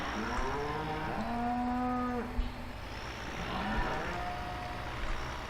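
Cattle low loudly in Farming Simulator 15 at fattening-cow pens. A long, drawn-out moo with a falling end is followed by a quieter second call over steady ambient farm noise.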